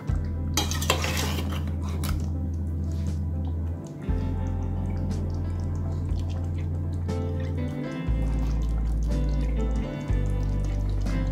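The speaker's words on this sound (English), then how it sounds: "I'm going to sink my knife into the potato" A knife tests a potato in a pot of Durban mutton curry, giving close metallic taps and scrapes against the pot over a low steady hum, with faint liquid sounds; no talking.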